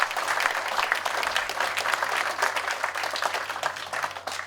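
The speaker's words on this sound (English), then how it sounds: "A round of applause for the honor guard of the American Legion of Illinois." A crowd at a patriotic veterans' event at an American Legion post gives sustained, dense applause for the American Legion of Illinois honor guard, clapping fairly far off and without a break.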